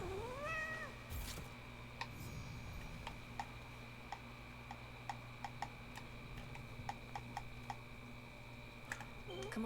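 A cat meows in the video game Hades II, opening with a short rising call and followed by scattered soft ticks and clicks over a steady low game hum, with no talking.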